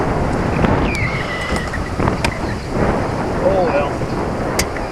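Strong wind buffets the microphone out on a lake during a fishing trip, a steady broadband roar with gusty swells throughout, and a person briefly exclaims.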